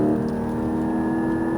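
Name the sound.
Porsche Cayman GT4 accelerating on track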